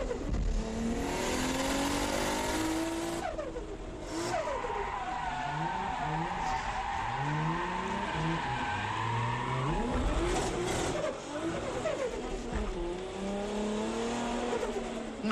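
A Toyota Soarer drifts in fifth gear, its engine revving loudly with rising and falling pitch sweeps, accompanied by squealing, skidding tires throughout a sustained, close run.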